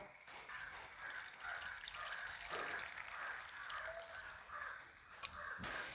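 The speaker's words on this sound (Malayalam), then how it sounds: "നമ്മുടെ ചട്ടിയിലോട്ട് നമുക്ക് കുറച്ച് പുളിവെള്ളമാണ് ഒഴിക്കുന്നത്" Tamarind water pours steadily into a cooking pan, a continuous splashing trickle lasting several seconds, with faint bird calls in the background.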